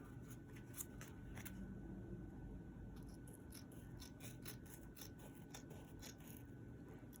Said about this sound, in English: I'm trying out some new scissors.